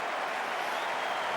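A 28,000-strong cricket crowd at the Gabba, Australia vs India in the 2008 Carlton United Series final, applauds a half-century by James Hopes as a steady, dense wash of clapping and cheering that fills the whole moment.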